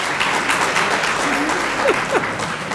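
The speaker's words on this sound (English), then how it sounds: "Were y'all clapping for the answer, or?" An audience at a high school athletic association meeting claps steadily in a close, continuous patter of many hands. A couple of faint vocal sounds slip in near the end.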